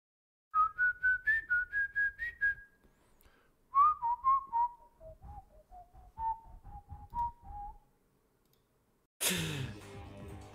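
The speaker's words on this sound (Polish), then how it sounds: "Coś Makuła tam gwizdże" Someone whistles a wavering melody during a Medieval Dynasty game stream, two phrases of quick rising and falling notes heard clearly and alone, then a short burst of noise at the end.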